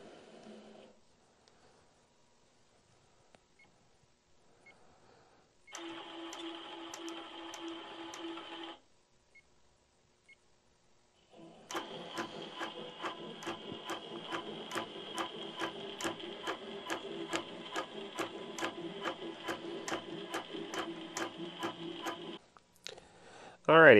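INNOVA AutoPilot computerized quilting machine stitching text and tie-offs, a rapid rhythmic mechanical chatter in two bursts, a short one and then a longer steady run, with quiet pauses between.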